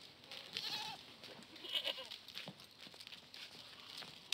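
A goat bleats a few times amid background noise in an indoor scene, with voices murmuring underneath; the cries are moderately faint and broken up.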